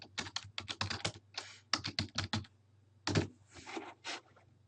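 Computer keyboard typing while entering login details, fast close clacking keystrokes in several quick bursts with short pauses, over a low background hum.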